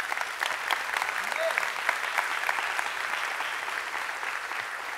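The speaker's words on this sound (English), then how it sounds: "Y'all applaud Jeff, please, his team." Sustained applause from a church congregation, dense steady clapping filling the space with no talk over it.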